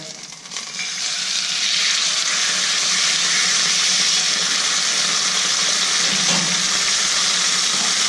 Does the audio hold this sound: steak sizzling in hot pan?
yes